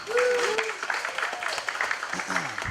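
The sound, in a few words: audience applause for Lindsay of Energy Trust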